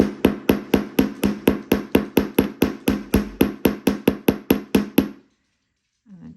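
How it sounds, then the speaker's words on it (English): Wire is hammered on a steel bench block with a long run of around twenty fast, regular metallic taps, loud and near, then the blows stop and a short pause follows. "So by turning it over and hammering, and turning it over and hammering, you'll find that you'll keep, hopefully your wire should stay straight."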